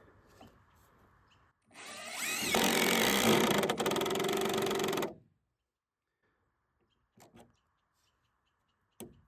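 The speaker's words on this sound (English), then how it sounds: "you can see I slowed down at the end there with the impact driver" An impact driver sinks an exterior decking fastener into a board for a tent platform, a loud burst of rapid hammering lasting about three seconds, then quiet with a few faint knocks.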